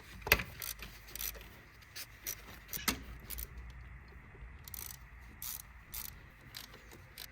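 A ratchet wrench undoes 10mm bolts on the EGR of a Mazda 2.2 Skyactiv diesel, giving quiet, intermittent metallic clicks and taps with pauses between bursts.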